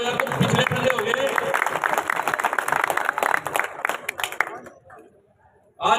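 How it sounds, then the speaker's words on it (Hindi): A crowd at a Congress party political rally for a Karnal Lok Sabha candidate claps loudly and steadily for several seconds, then the applause thins out and fades to near quiet before a brief noise at the end. "इनके समर्थन में एक बार जोरदार तालियों से इनको अपना आशीर्वाद दें"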